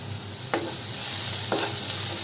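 Carrots and mixed vegetables sautéing in a pan for a protein- and fiber-rich dinner: a steady close sizzle with two brief scraping stirs about a second apart, no talk.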